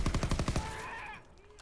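Rapid burst of automatic gunfire in Call of Duty WW2 during the D-Day landing, about eight loud, close shots in quick rhythm, then a fading echoing tail.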